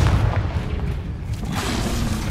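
A Confringo explosion spell goes off in Hogwarts Legacy, a loud, close, booming blast that leaves a sustained rumbling roar, with no voices.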